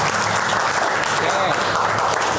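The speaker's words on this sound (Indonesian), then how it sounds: "tepuk tangan untuk Jaki dulu" A classroom audience claps for a presenter in a steady, dense round of applause that fills the whole moment, with voices chattering underneath.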